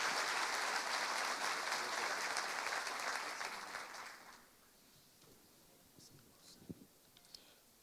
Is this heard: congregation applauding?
yes